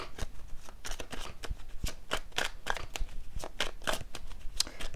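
Tarot cards are shuffled by hand in a steady run of crisp riffling slaps and soft card flicks, close and continuous for about five seconds, with no voice.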